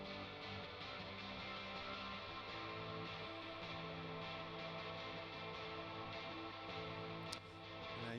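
A modulating ambient synth pad with the reverb fed back into itself, a dense sustained wash of layered tones whose overtones slowly thicken and swell, fairly soft and steady throughout with no voices.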